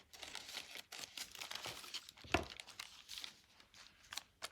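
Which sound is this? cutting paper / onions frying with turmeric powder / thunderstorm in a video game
cutting paper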